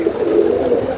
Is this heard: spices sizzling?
no